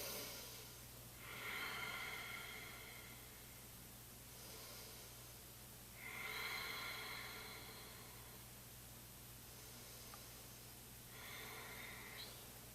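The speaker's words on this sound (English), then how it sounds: "So just take 3 breaths right here." Three slow, breathy exhalations in a yoga child's pose during a morning practice, evenly spaced swells of soft air over a steady low hum, fairly close and quiet, with no talking.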